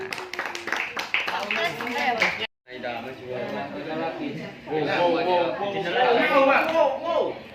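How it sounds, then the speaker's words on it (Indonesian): Students in a classroom give a short round of applause for a presenting group, about two seconds of clapping that stops abruptly before a teacher resumes talking over the room. "Ya, tepuk tangan."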